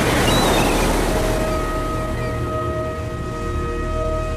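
Stormy Atlantic waves surge off Iceland's coast in a loud, continuous wash of surf and wind, with steady tonal hums layered over the roar, no voices.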